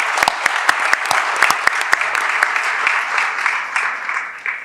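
Audience applause after a remark praising Mexico during a conversation with North American ambassadors, dense steady clapping from a crowd with a few sharp nearby claps standing out, sustained for several seconds without talk.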